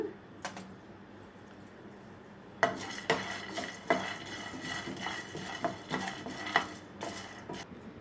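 Peanuts are added to a pan and roasted. After a quiet start, a burst of rattling begins, followed by repeated scraping and clinking strokes of a spoon stirring against the metal. The sound is close but fairly soft, with no speech.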